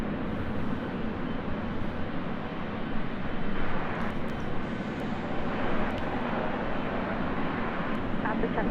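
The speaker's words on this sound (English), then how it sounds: "747-8 Intercontinental, next arrival on 24 left." Boeing 747-8 Intercontinental jet arriving on runway 24 left at LAX, a steady broadband roar of engine noise holding at a constant level throughout, heard from a distance without speech.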